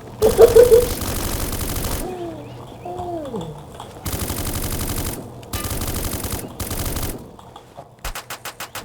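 Rapid automatic gunfire in the Roblox game Black Hawk Rescue Mission 5, loud sustained bursts separated by short pauses, ending in a run of distinct separate shots, with brief voice-like chirps between the bursts.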